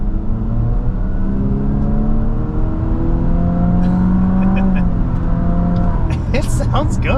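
A 2023 Infiniti QX50 in sport mode accelerates hard on an open road, its engine note climbing steadily and loud, heard from inside the cabin.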